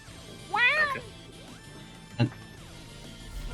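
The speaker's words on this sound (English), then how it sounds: "Whose meow was that?" Cat giving one clear, close meow, followed by a short knock and quiet background hum.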